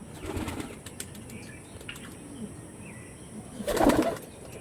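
Quiet outdoor ambience with a few soft flutters, then a close burst of pigeon wings flapping near the end.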